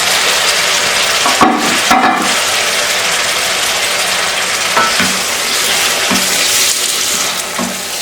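Four or five onions sautéing in olive oil for stuffed peppers, giving a loud, continuous close sizzle with occasional stirring clatters from a spoon against the pan.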